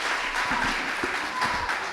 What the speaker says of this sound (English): Can you please just give them a round of applause for me?